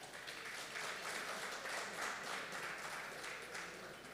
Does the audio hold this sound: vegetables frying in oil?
no